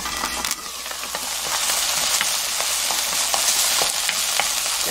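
Onions cooking in olive oil in a covered pot over low heat, a steady bright sizzle with scattered crackles and pops, close and continuous, no talking.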